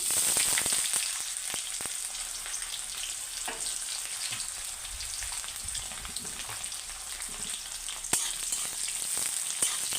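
Chopped onions fry for a chicken curry, a continuous close sizzle in oil with light scattered pops and occasional stirring clicks throughout.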